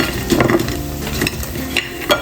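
Pork ribs frying in a little oil in a wok for dry pot ribs, a steady sizzle broken by a few sharp scrapes and clatters of a spatula stirring.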